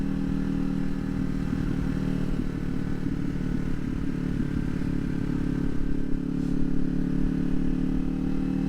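Motorcycle engine droning steadily at close range with a constant low rumble and a slight rise in intensity near the end as the rider speeds up and moves into fourth gear.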